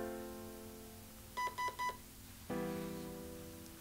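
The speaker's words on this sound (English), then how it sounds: "You beeped." A GATE electronics unit gives three quick, evenly spaced electronic beeps as it syncs, followed by a steady tone from the device, all close and clear over a quiet background hum.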